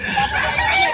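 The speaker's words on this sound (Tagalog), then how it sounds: "hen po yan, hen" A hen, one of a flock of chickens, gives short, close clucking calls over about a second, loud and clear with no talking.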